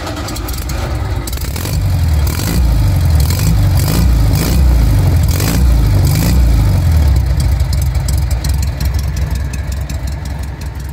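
A 1962 Volkswagen Beetle engine fitted with a chrome four-outlet exhaust idles and revs up and down, a loud, close, throaty rumble that swells through the middle and settles back toward idle.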